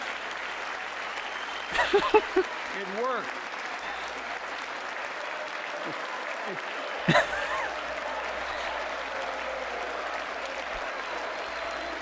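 A live audience applauds at a 2022 State of the Union address, a steady wash of clapping with brief louder bursts, heard under someone talking over it.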